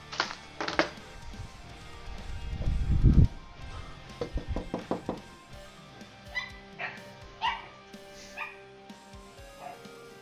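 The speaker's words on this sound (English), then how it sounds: "I hear the dogs in there woofing and whooping and hollering" Several dogs behind a closed door bark, yip and whimper in irregular bursts, a muffled cluster of barks early on, then sparser yips and whines trailing off at moderate distance.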